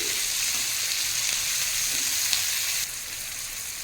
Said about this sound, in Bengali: এখন ফ্লেমটাকে হাই করে দিয়েছি আর এই যে টমাটো আলু লঙ্কা হলুদের গুঁড়ো সমস্ত কিছু কিন্তু খুব ভালো মতো ভাজা বা কষানো যাই বলেন না কেন হয়ে গেছে